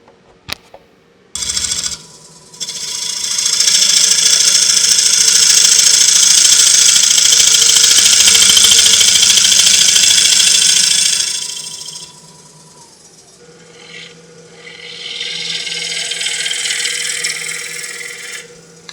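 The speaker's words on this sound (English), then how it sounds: "we'll start with a 1/2 inch bowl gouge to get it round." Wood lathe turning a sycamore bowl with a 1/2 inch bowl gouge: a loud, sustained hissing cut of about ten seconds over a steady motor hum, then a pause and a second, softer cutting pass.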